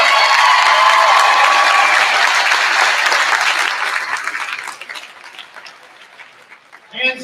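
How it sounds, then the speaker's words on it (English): An audience at a school volleyball tournament gym claps loudly and densely, then the applause thins out and fades to scattered claps, with a brief sharp sound at the very end. "I think we could give that a round of applause."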